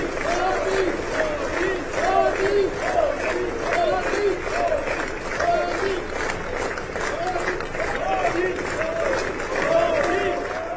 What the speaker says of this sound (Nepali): मोदीले बैठकलाई सम्बोधन गरिरहँदा सांसद तालीले गुन्जमान भएको थियो।